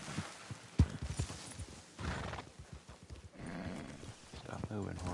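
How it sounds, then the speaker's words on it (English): Horse in Red Dead Online moving about with clip-clop hoofbeats and a whinny, close and moderately loud, under game ambience. "Stop moving, horse."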